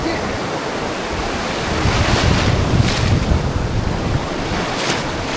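Sea waves rolling in at Bakkhali beach, a broad continuous roar of surf mixed with heavy wind buffeting the microphone, swelling louder in the middle as a wave breaks nearby.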